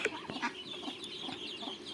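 Chickens and ducks cluck, quack and squawk close by in a busy, overlapping flurry of short calls.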